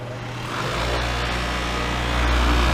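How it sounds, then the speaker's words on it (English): A grinder cutting down metal trim on the trunk lid of a 1966 Impala SS, a loud, steady, high-pitched whine that ramps up to full speed after a moment and holds. "I'm just going to grind it down."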